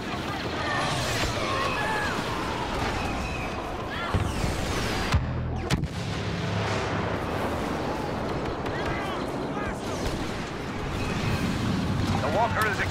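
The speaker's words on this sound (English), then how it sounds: "Bombers are making their attack run." Star Wars Battlefront battle with bombers making an attack run: a dense rumbling barrage of explosions and blasts layered over constant combat noise, with a brief sharp cut around five seconds and heavy low booms continuing after.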